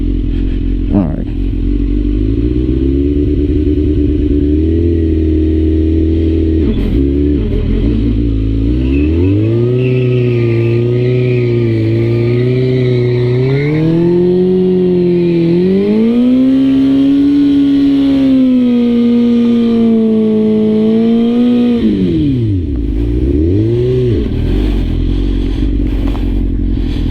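2006 Suzuki GSX-R1000 sportbike doing a burnout, its engine revving hard and climbing in pitch, holding high, then dropping and surging again, loud and close throughout, with a few scraping clatters.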